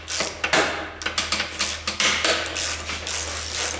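Bolts being loosened from a motorcycle license plate bracket (horseshoe bracket) on the fender, heard as close, rapid ratchet clicking in steady repeated bursts over a low constant hum, with no talk.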